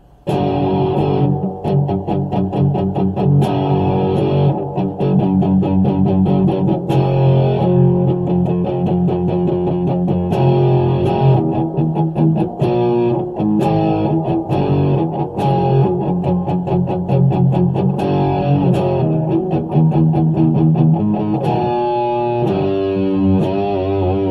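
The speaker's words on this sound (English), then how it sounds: "So here's a couple power chords." Heavily distorted electric guitar through a Temu Holy War effects pedal plays a continuous run of power chords, loud and dense, with rhythmic chord changes throughout and no voices.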